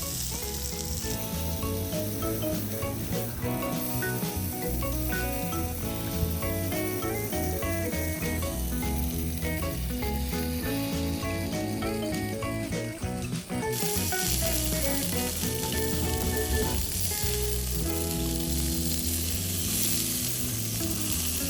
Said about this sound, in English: There we go, middle of cooking burgers.